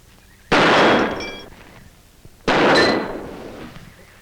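Two sharp gunshots ring out about two seconds apart in a western drama, each a loud crack followed by a decaying echo, with no talk over them.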